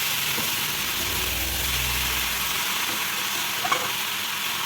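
Vegetables sizzle in a large wok-like kadai while being stirred, a steady frying hiss with a low rumble and occasional scraping clinks of the spatula, close and continuous without speech.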